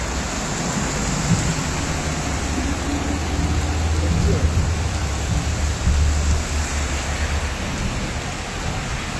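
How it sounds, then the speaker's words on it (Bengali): Steady rain with a low thunder rumble rolling beneath it during a storm, heard from inside a shop, with a voice faintly present. "কি মেঘ ডাকছে"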